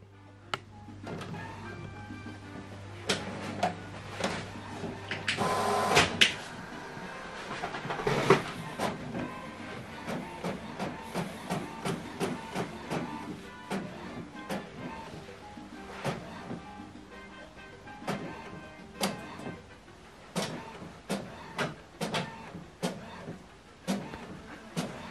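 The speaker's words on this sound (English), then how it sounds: "You can see the job is printing out right now." Epson WF7840 inkjet printer running a colour two-sided print job, with irregular mechanical clicks, clacks and feed thumps at close range, a steady motor hum in the first seconds, and no voices.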